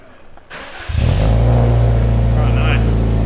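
A Subaru WRX STI with an HKS downpipe, exhaust and intake cranks and fires up, then settles into a loud, deep, steady idle rumble close by. Brief voices are heard faintly over it.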